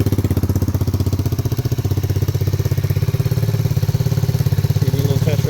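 A 140cc four-speed manual kickstart mini bike engine runs close by, a loud, fast, even putter with a steady rhythm that thickens slightly toward the end, with no talk.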